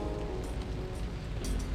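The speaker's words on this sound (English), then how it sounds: "it's raining really hard" Heavy rain in the Hitman Contracts video game, a steady dense downpour hissing continuously across the whole moment with no talk over it.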